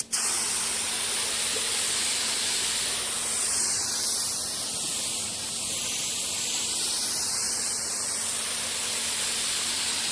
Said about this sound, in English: So I'll now go ahead and spray the shelf.